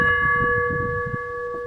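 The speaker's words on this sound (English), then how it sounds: "And a bell." A bell aboard a sailing boat rings out with a sustained, clear metallic tone that slowly decays, heard close and alone without talk.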